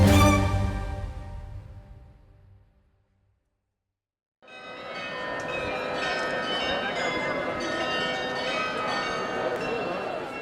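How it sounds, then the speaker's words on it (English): Bells of the Munich Glockenspiel in the town-hall tower ring out. A struck tone fades away to a short silence, then a thick wash of overlapping chimes and clangs returns and carries on steadily. "fanfares blare, and bells chime"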